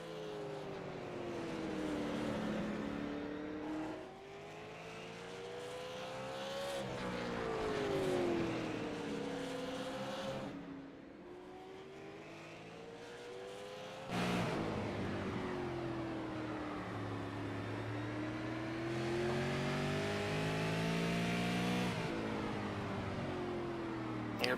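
A super late model race car revs on a dirt track, its engine loud and close, rising and falling in pitch as the throttle works through each corner, with a sharp jump in revs partway through.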